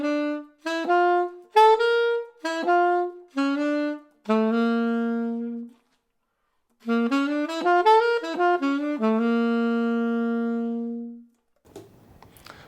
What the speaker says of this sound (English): we can also approach each note of the triad or the chord by semitone, and we call this a semitone approach